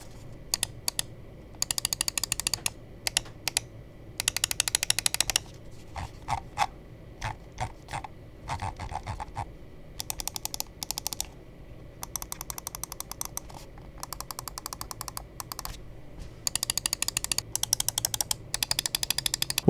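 A Razer Viper V3 Pro gaming mouse gives rapid bursts of crisp, close button clicks, pausing between groups, over a faint steady background hum, with no voices.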